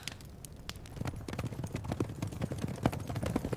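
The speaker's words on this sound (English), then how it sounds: "Cavalry horses charge forward," Cavalry horses charge, their hooves pounding in a dense, uneven clatter of hoofbeats that holds steady and close throughout, with no voices.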